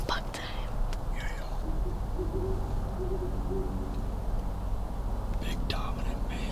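In Wisconsin bow-hunting woods, an owl hoots softly a few times at a distance. Quiet whispered talk from a treestand runs over the low outdoor ambience.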